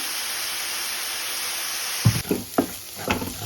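Red amaranth greens cook in a pan with a steady hissing sizzle throughout, then several soft thumping stirs and scrapes near the end.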